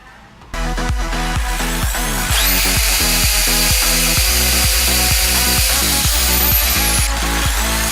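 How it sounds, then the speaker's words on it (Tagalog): A power drill runs continuously during home improvement work, starting abruptly and whirring loud and close with rising and falling pitch sweeps as it bites and eases, no voices over it. "Drill pa more."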